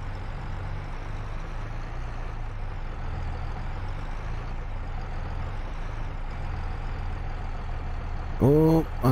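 Red tractor engine in Farming Simulator 22 pulling a green implement, a steady low droning hum that runs throughout, ending with a brief louder mechanical burst of whining tones.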